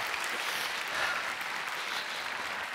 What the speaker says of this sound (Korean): 우리 다시 한번 큰 박수로 감사하겠습니다